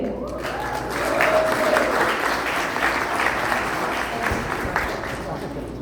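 Audience applause at a municipal campaign launch for a Scarborough-Rouge Park councillor candidate, a steady wash of many hands swelling and holding for several seconds, with a faint voice and crowd murmur underneath.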